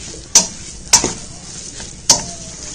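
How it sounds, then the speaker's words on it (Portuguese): Shredded chicken filling for coxinha being stirred and sautéed in a pan, with a steady sizzle broken by three sharp spoon knocks against the pan, close and fairly loud, no talking. "para refogar o frango"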